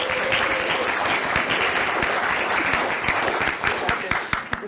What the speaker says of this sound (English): Have a round of applause for Josie